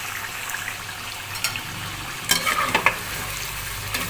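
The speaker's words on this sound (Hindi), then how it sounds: "इसके साथ अब इसमें मैं लहसुन अदरक का पेस्ट डाल रही हूँ।" Garlic-ginger paste sizzles with tomatoes in a pan for chicken karahi, a steady close frying hiss with a few louder crackles and spoon scrapes partway through.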